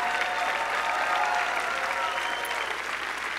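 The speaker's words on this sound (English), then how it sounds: "Come on, give them a good hand clap," Church congregation applauding mothers during a Mother's Day service, a continuous, dense roar of hand clapping filling the sanctuary, steady and even from start to finish.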